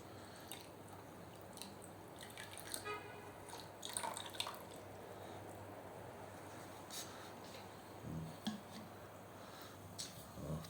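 Freshly poured cleaning liquid bubbles and fizzes softly on a combine harvester part, a faint, continuous wet crackle with occasional drips and squelches, no talking.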